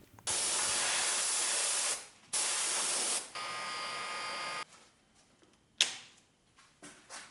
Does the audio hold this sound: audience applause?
no